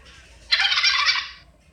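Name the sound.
turkey gobbling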